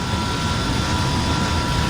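Steady, dense jet roar of a de Havilland DH.100 Vampire's single jet engine in Flight Simulator X, a constant broadband rush with no breaks, loud and close, with no voices.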